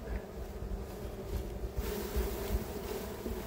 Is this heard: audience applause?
no